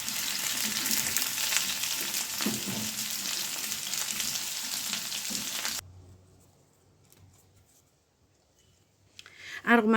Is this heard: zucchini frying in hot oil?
yes